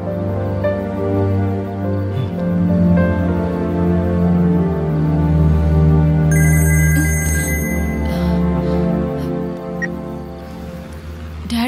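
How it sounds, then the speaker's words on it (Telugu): An incoming call rings on a phone during a Telugu thriller scene, a sustained electronic ringtone with layered tones sounding close and clear over a background music bed. "డాడీ కాల్ చేస్తున్నారు."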